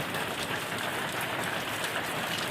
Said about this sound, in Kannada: ಮಳೆನೂ ಬರಾಗತ್ತದ ನೋಡ್ರಿ ನೀರೆಲ್ಲ ನಿಂತಾವೆ